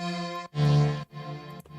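Synthesized accordion-like chords from the free FL Studio Flex plugin played in short sustained stabs, three bursts with brief gaps between them, reedy and steady, no voices.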